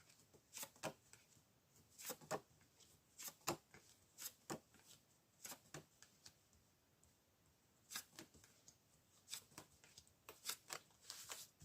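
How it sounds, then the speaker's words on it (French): Tarot cards are reshuffled in a series of quiet, crisp riffles and flicks that come in irregular bursts, close by but faint. "donc de remélanger les cartes et d'essayer d'obtenir des informations sur l'homme"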